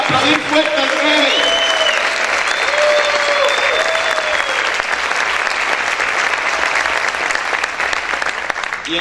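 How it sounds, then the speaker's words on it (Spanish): Loud, sustained applause from a church congregation, a thick steady roar of many hands clapping that tapers slightly toward the end, with a voice briefly audible over it early on. "¿Cuántos pueden aplaudir fuerte al Rey?"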